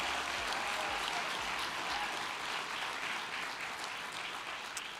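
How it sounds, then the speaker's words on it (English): A warm round of applause from the audience for the contestants of the Miss Cherokee and Junior Miss Cherokee competition, broad and continuous crowd clapping heard from a distance, fairly soft and steady throughout. "Audience, please put another warm round of applause together for the entire group of contestants for Miss"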